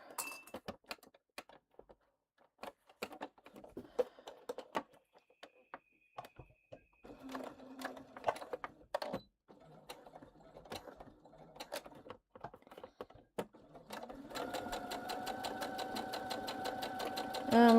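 A sewing machine stitching thread runs in short bursts at first, then settles into a steady, continuous rattling run near the end, with small clinks of mechanism between passes.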